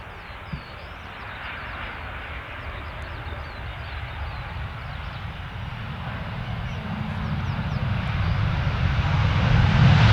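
A Ryanair airliner passes at Stansted Airport during circuit training, its broad engine roar building steadily louder over the seconds as the jet approaches, with a low rumble swelling toward the end.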